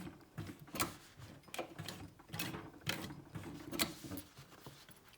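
A hand-cranked sewing machine stitches a corner on a small backpack, giving quiet rhythmic clacks and mechanical ticks in an uneven series of close pulses.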